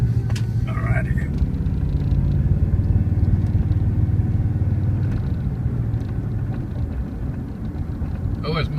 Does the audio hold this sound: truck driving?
yes